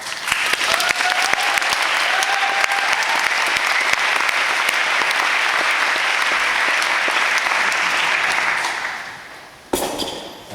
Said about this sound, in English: Give her a little clap.